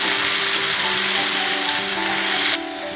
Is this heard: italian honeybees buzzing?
no